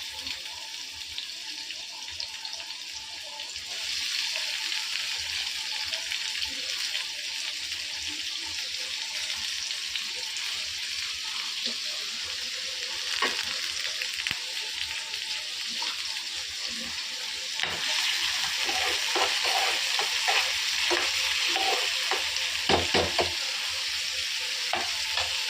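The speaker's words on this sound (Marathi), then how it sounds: "आता तो फ्राय होत आहे कांदा।" Chopped onion frying in hot oil for sukha javala, a steady close sizzle with occasional stirring scrapes and a faint trickle of water, no talking.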